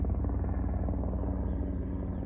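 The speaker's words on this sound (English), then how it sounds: "Looks like a military helicopter." A black military helicopter flies overhead, its rotor and engine producing a steady, dense drone that holds at a constant level throughout without pause.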